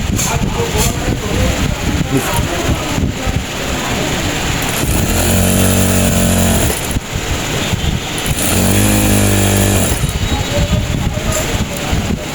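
A sewing machine runs a straight stitch down the middle of women's pajama pants, in two steady bursts of rapid, buzzing whir over constant loud background noise.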